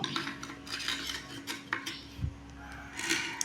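Broken clay potsherds being set into the bottom of a flower pot while repotting a plant, giving soft, close clinks and scrapes in a scattered, irregular rhythm, faint and quiet.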